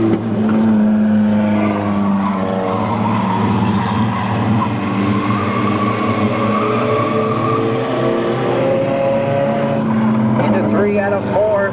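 Race cars lapping the track late in an auto race, a loud continuous engine drone with shifting tones as cars pass, under steady commentary.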